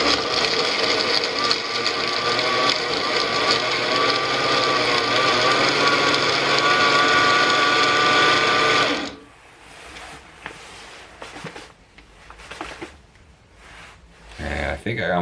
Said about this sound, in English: Let's go back to the blender.